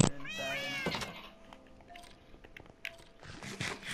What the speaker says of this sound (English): we got two cats outside